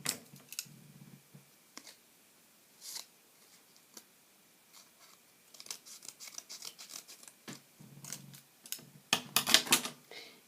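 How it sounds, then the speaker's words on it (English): Scissors cut coloured paper for a Christmas art craft, with a series of quiet, close snips and crisp paper rustles at irregular intervals, growing busier and louder toward the end. "I'm just going to cut that in half. And then I'm going to do the arms with the scissors."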